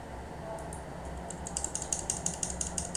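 The slash key on a mechanical keyboard with a faulty, double-clicking switch is pressed again and again, giving a steady run of sharp clicks that speeds up toward the end, close and clear.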